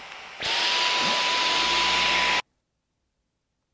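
A Dyson Gen5detect Absolute cordless vacuum cleaner switches on with a click, holds a loud, steady high-pitched whine with a constant tone for about two seconds, then cuts off abruptly into silence.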